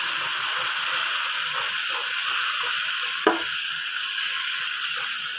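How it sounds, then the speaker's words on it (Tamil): Adai, a lentil dosa, cooks on a hot pan with a loud, continuous close-up sizzle and hiss, broken once by a brief sharp tap or scrape partway through; no talking. "இப்போது அடை தோசை சுட்டுக்கலாம்."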